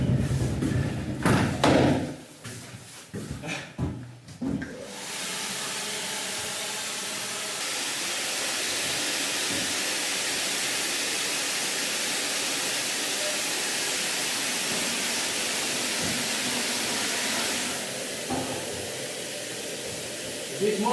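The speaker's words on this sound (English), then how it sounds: "the freshly drilled ice core is pushed directly from the core barrel" A freshly drilled ice core is pushed from the core barrel into a cabin at a Greenland deep-drilling camp, heard as a few heavy thumps and knocks up close at the start, then a long steady rushing hiss of machinery that fills the rest.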